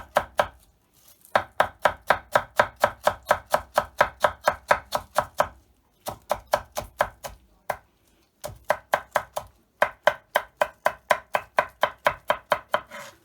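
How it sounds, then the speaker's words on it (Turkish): A knife chops onions finely on a cutting board in fast, rhythmic runs of crisp taps, pausing briefly between bursts. "Şimdi bu 3 soğanımızı da bu şekilde doğrayacağız."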